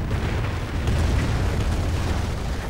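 Bundled grenades exploding in a World War strategy video game, a sustained deep rumbling blast that rolls on without a break, loud and dense, with no voices over it.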